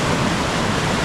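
The River Allen, a chalk stream in full flood, rushes loudly in a steady, dense roar of moving water, close and continuous with no voices.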